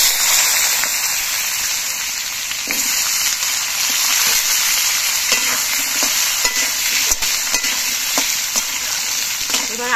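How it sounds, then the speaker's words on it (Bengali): Potatoes sizzle loudly in oil with cumin seeds while a utensil stirs and scrapes them in the pan, giving a constant crackling hiss broken by regular scraping knocks. "জিরেটা ভাজা হয়ে যাওয়ার পর এর মধ্যে আমি আলুগুলো দিয়ে দিচ্ছি।"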